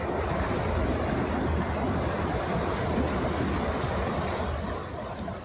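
Water rushes through a penstock flume at a brick factory, running from the forebay toward the grinding shop. It is a steady, loud, broadband roar of flowing water with no voices.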